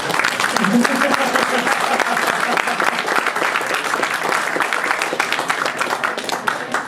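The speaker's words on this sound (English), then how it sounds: "Come on, applause." Steady applause from a crowd at a charity auction, dense clapping that holds throughout without a break, with a murmur of voices underneath.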